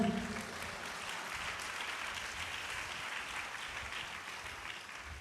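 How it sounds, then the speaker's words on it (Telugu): A church congregation at a Hosanna Ministries service in Bhimavaram applauds loudly, a dense, continuous wash of many hands clapping at once that holds steady throughout, with no talking over it. "చప్పట్లు కొట్టండి గట్టిగా."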